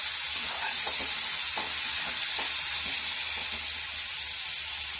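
Ingredients for katori chaat stirred in a pan over a steady sizzle and hiss, with soft scraping strokes of a spoon repeating several times, close and alone.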